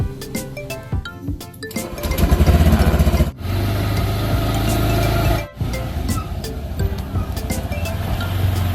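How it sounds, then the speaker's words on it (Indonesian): A motorcycle engine is throttled up while riding, giving a close, droning growl that rises and holds, with two brief dips as the throttle drops before the engine pulls steadily again. "motor pun langsung digas"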